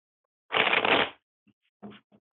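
A brief burst of tarot cards riffling together, followed by a few soft taps and shuffles as the deck settles.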